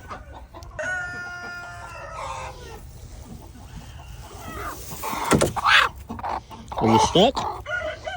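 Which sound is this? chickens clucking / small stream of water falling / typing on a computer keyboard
chickens clucking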